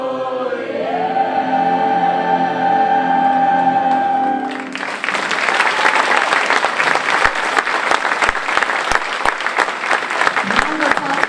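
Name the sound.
audience applause for a scat soloist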